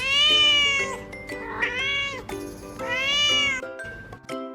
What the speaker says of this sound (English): It says meow meow.